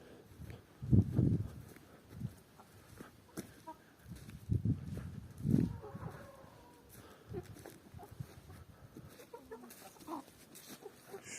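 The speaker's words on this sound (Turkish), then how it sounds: "Çok güzel bir horoz. Boylu bir horoz." A rooster gives a few low, throaty clucks in scattered bursts, with quieter farmyard rustling between them.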